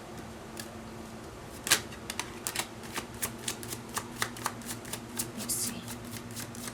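Oracle cards shuffled by hand: a quiet, close run of soft riffling snaps and ticks in an irregular rhythm, with a brief murmured voice.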